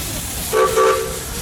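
A 1912 Case 75 horsepower steam traction engine gives short, steady whistle blasts over a constant background rumble at the Rock River Thresheree threshing show in Edgerton, Wisconsin.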